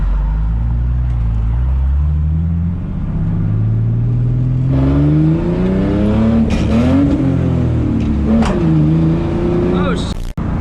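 A repaired car, driven again after blowing up, makes its first hard pull: the engine drones loud and steady while its pitch climbs through the gears, with a shift dip near the end, close and continuous.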